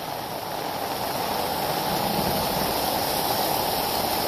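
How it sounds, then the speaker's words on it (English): Heavy rain runoff gushes out of a yard drain pop-up fed by a gutter and French drain system, a steady, loud broadband rush of churning water throughout with no pauses. "That thing is moving some water."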